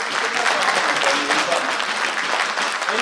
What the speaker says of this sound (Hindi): आप जरा तालियां लगाकर बताएंगे